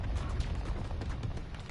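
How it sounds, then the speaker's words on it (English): A giant explosion erupts on the Battlefield 2042 map Loka, a dense continuous roar of low rumble and crackling debris that holds steady at close range for the whole stretch. "there's just a giant explosion in front of us"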